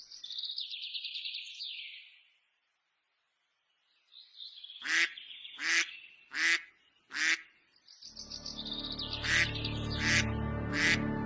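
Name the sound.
ducks quacking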